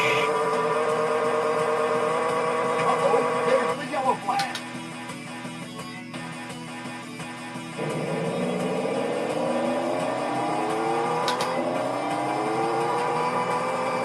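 Race car engines from a 1986 Konami arcade racing game whine and roar continuously, with shifting electronic pitch sweeps and a brief dip midway before the droning engine tone rises again.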